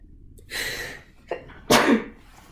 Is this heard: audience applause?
no